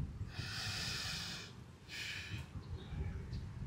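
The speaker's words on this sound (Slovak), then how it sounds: "Predýcham 2 nádychy a výdych." Two deep, audible breaths during a yoga pose in a morning session: a long, hissy inhale and exhale, then a shorter second breath, close and soft over faint room noise.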